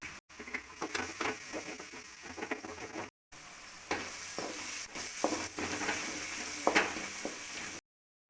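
Steady sizzling and frying of turmeric, chili powder, garam masala and cumin in a pan, with soft crackles and occasional stirring scrapes, close up, broken by two brief silent cuts.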